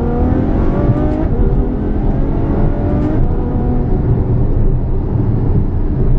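A Ferrari F12 Berlinetta's V12 engine roars steadily up close, its pitch dropping in stepped bursts as it shifts down through the gears.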